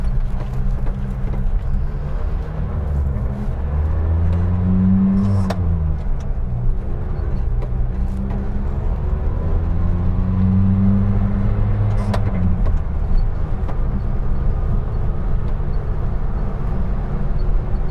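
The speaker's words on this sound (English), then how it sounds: "We're going to go up through the 4 gears." A first-generation Honda TN-Acty kei truck engine revs up through its four gears, the pitch rising and dropping with each shift, steady and close with no talking.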